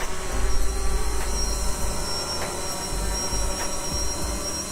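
Xiaomi Fimi X8 SE drone with red extended landing gear hovering nearby, a steady loud buzzing whine of propellers that holds constant throughout, no voices.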